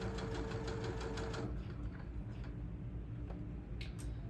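Sewing machine stitching a curve in fabric, a rapid rhythmic mechanical ticking close up that runs for a moment and then slows and stops.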